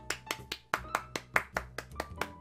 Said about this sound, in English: Gotta give her claps, because she's so awesome